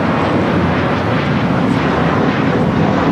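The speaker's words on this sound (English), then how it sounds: "This is American Airlines Flight 32 taking off to JFK on the A321" An American Airlines Airbus A321 takes off at LAX, its engines producing a loud, continuous broadband roar that holds steady throughout.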